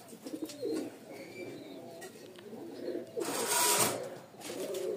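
Giribaz pigeons from a Rajshahi breeder coo softly and repeatedly at close range, with a brief louder flurry partway through and no talking.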